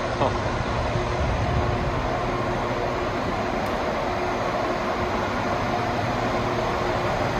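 Heavy, continuous rumble and rolling noise of a train arriving at Prokop station in Belgrade, steady and loud throughout with no pauses.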